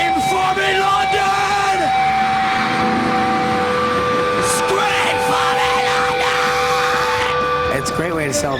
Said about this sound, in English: Scream for me, London!